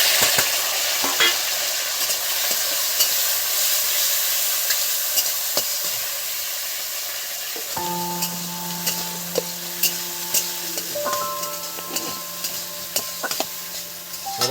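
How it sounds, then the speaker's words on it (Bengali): Chopped tomatoes frying with chillies and cumin in a pan give a dense, bright sizzle with scattered crackles, then a steady humming tone settles in beneath the hiss partway through. "এর মধ্যে দিয়ে দিচ্ছি কুচি কুচি করা টমেটো"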